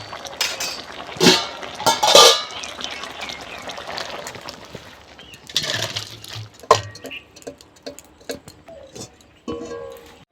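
A cooking pot of gourd curry is lifted off the stove with metallic clinks and clanks of the pot and utensils, scattered knocks and scrapes in a quiet kitchen, close and intermittent.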